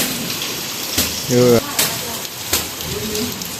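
Heavy monsoon rain pours down steadily in the Konkan countryside as a dense, even hiss, with a short voice rising briefly above it and a couple of louder gusts.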